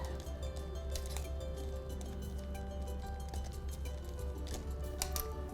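Rebatched soap shreds mixed with purple mica are stirred in a container, making repeated soft clicking and squishing taps over a low steady hum.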